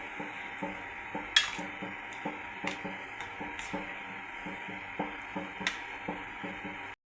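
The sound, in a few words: stirring sambar in a pot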